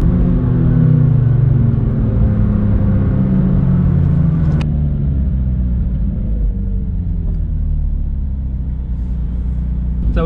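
McLaren 570S sports car driving on a desert road in Dubai, a steady loud low engine rumble and road roar that slowly eases off, with a sharp brief click partway through.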